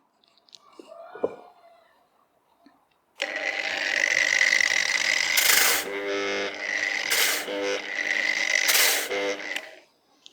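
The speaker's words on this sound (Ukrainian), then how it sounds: "Беремо болгарку ПВ1200Е без стабілізації. Ставимо на мінімум, тобто тут одиничка, і пробуємо шліфувати деревину." A PV1200E angle grinder without speed stabilization, set to minimum speed, sands wood steadily for several seconds, a rough grinding drone with a few louder surges, after a brief quiet handling noise.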